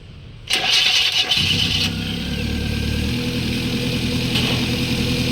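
A Kia Picanto with low power and backfiring trouble cranks briefly, then its engine catches and settles into a steady, close idle.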